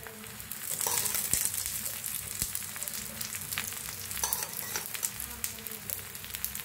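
Oil sizzles and crackles in a kadhai as a flatbread fries, a steady close hiss with scattered sharp pops and light stirring scrapes.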